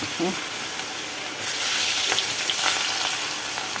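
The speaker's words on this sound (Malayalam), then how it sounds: "പപ്പടം പൊരിച്ച എണ്ണയിലാണ് കറി വിട്ട് കൊടുത്തേക്കുന്നത് അഞ്ചാറ് വെളുത്തുള്ളി ഇട്ട് കൊടുക്കാം ഇഞ്ചി അഞ്ചാറ് കൊടുക്കാം" Garlic and ginger for a curry sizzle loudly in oil left from frying papadam, a dense, close crackle that surges sharply partway through and then holds steady.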